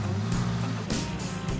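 A 1988 Porsche 959 S rumbles close by as it is loaded up, its engine note steady with a couple of brief surges of revving, and no voices heard.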